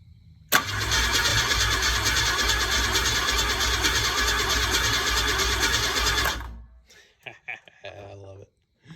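An old red Ford F-100 truck engine cranks and catches abruptly, running loud and rough for several seconds before cutting off, followed by a few scattered clunks and faint sounds.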